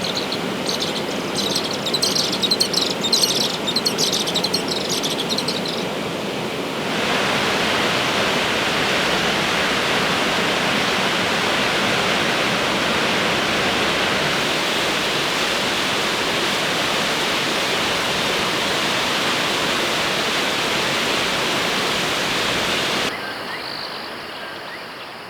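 Flowing river water at Lower Sabie Bridge in Kruger National Park gives a steady, broad rushing hiss throughout. Faint high insect or cricket chirps sound early on, and there is no talking.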